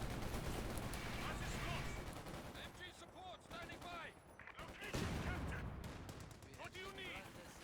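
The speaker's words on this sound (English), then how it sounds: "Good penetrating hit from the Pack Howitzer." Artillery, Pack 40 anti-tank hits, mortar white phosphorus and small-arms gunfire rattle in a Company of Heroes 2 battle, with dense overlapping bursts and booms at moderate loudness and a busy clatter throughout.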